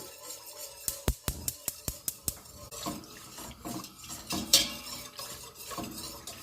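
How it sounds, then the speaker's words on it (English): A pan on the heat as pectin is whisked into pomegranate juice: a quick run of sharp metallic taps, then softer scraping and stirring, close by with no voices. "we're gonna want to whisk in our pectin"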